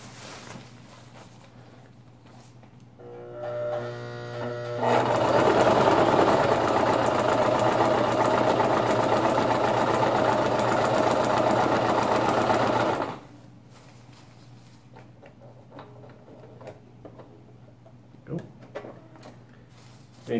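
A sewing machine stitches a rolled hem on fabric in a steady, close, rapid whir lasting about eight seconds, with softer handling noises before and after and a person talking at a low level.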